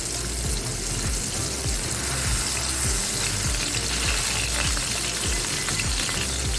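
Steady, loud sizzling of burger patties frying in a hot pan, a continuous crackling hiss with no pauses.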